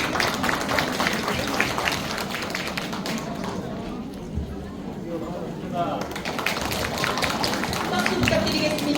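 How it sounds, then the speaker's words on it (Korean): An audience applauds to welcome a lecturer to a talk on a happy life and volunteering. The clapping is dense and continuous, dipping briefly in the middle before swelling again. "박수로 맞이해 주시기 바랍니다."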